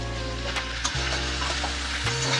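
Eggplant pieces fry in hot oil in a pan for a Bengali catfish curry, a steady loud sizzle with occasional scrapes and stirring knocks, close up and without talk.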